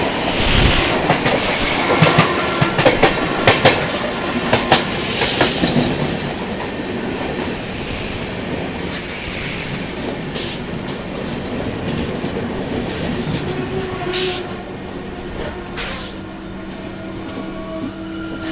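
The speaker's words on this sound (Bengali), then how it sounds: "আমাদের ট্রেনটা আর একটু পরে এই বারাণসী জংশন স্টেশনে ঢুকবে" A train running on rails near Varanasi Junction on the Kolkata to Varanasi route, a loud close rumble with high metallic wheel squeals and scattered rhythmic clacks, continuous and without voices.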